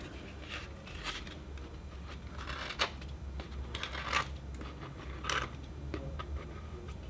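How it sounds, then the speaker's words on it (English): Scissors snipping away excess material during a craft build: a few sharp, separate clicks and cuts at steady intervals, close and fairly quiet over a low background hum. "you can trim off any excess that you may have and get a nice smooth fit"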